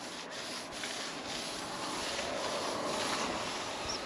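Steady, close-up friction noise, a dry continuous rubbing hiss like a clay bar gliding over car paint, with no speech.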